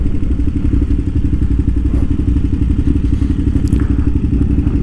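A KTM 990 motorcycle under way, its engine giving a loud, continuous, close throbbing rumble mixed with wind buffeting, steady throughout with no talk.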